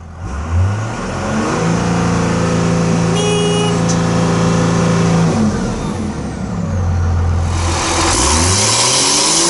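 A car engine revs hard toward the redline, climbing in pitch through several loud, close sweeps that rise, hold and drop back before revving up again.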